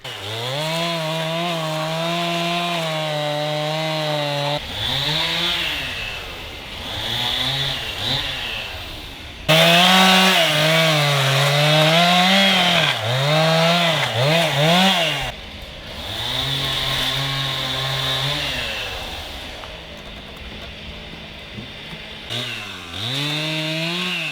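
A chainsaw roars loudly and continuously as it cuts through tree wood, its engine pitch rising and dipping as it bites in, with brief drops between cuts.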